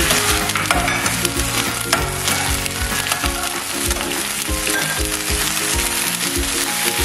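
Soy sauce poured into a hot pan during stir-frying, a loud, dense sizzle and crackle that holds steady throughout, close by, with scraping stir strokes mixed in.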